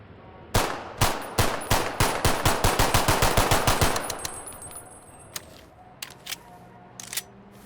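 Guns from a Half-Life 2 roleplay add-on fire in-game: a rapid automatic burst of loud, close cracks, then scattered single shots and mechanical clicks as the firing tapers off, with no voices.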